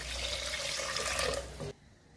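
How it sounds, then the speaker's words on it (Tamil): Measured water pours into a cooking pot for rice, a loud splashing rush that runs about a second and a half before cutting off abruptly into near silence. "அளந்து எடுத்து வச்சிருக்க தண்ணியை நான் ஊற்றிடுறேன்"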